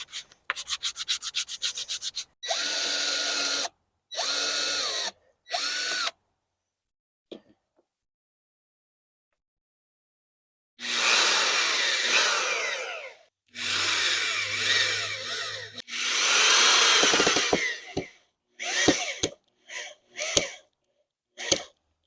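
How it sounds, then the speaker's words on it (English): Cheap pine wood handles are sanded by hand with a series of raspy, close strokes in bursts of a second or two, separated by pauses and a long quiet gap midway, ending with brief scuffs. "I want to sand them down so that I don't get any splinters."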